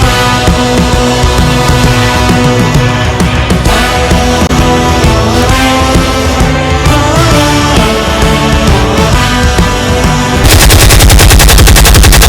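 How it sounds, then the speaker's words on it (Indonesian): Rapid machine-gun fire and gunshots ring out as a distant battle sound effect in a school stage drama, bursts repeating loudly and continuously over a backing soundtrack, with no talking. "terdengar suara tembakan dari kejauhan"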